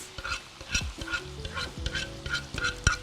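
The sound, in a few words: canned tomatoes added to frying mushrooms in pan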